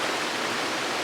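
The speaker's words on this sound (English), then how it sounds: "I'm going to get closer to these rapids and or waterfalls" River rapids and waterfalls on the North Yorkshire Moors make a steady, loud, broadband rushing roar, close by and unbroken, with no voices.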